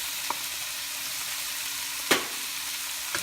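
Milkfish and tofu fry in a pan with a steady, even hiss, broken by a couple of brief clicks, one of them sharper, from utensils against the pan.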